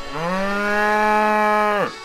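A single cow gives one long, loud moo nearby, steady in pitch before dropping off at the end.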